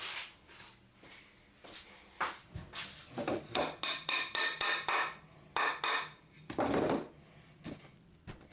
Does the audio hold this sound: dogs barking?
no